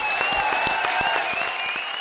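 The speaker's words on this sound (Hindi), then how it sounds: "जोरदार तालियां हो जाएं।" Dense, steady applause from a studio audience at the grand finale of a comedy circus show, loud and continuous with sharp clap transients and no break for two seconds.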